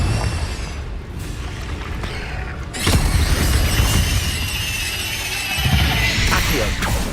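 Confringo explosive spell cast in Hogwarts Legacy on PS5, loud booming blasts with crashing, shattering debris, a big impact near the middle followed by a long rumbling roar and another burst late.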